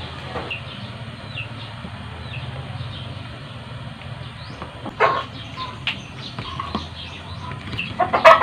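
Chickens in a rural Philippine province cluck in short, scattered calls against quiet background noise, a few sharper clucks standing out near the middle and end.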